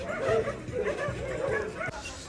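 Podenco hunting dogs at an Iberian hunting-pack gathering in Mêda, Portugal, give a close, excited run of yips, barks and whimpers, overlapping in quick bursts for the whole moment.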